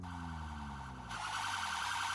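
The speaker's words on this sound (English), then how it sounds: "that is a British siren, it's just a little bit loud" A British police car siren in the BeamNG driving game wails loudly and continuously, its pitch sweeping in steady bands before jumping louder and brighter about halfway through.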